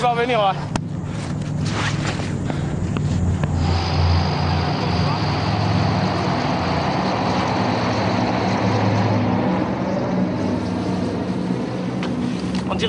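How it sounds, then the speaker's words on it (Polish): Aircraft engine droning steadily overhead during a parachute jump session in the Foreign Legion, a broad continuous roar with speech over it. "Leci jeszcze jeden samolot."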